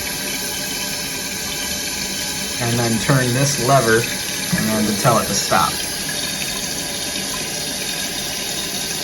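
A toilet tank refills after flushing, making a steady, rushing hiss of running water that continues throughout. Someone talks briefly over the flow partway through.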